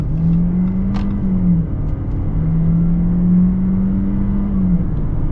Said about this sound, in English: and I guess we'll get an acceleration.